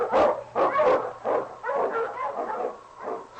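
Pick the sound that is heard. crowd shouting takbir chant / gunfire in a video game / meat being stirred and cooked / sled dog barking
sled dog barking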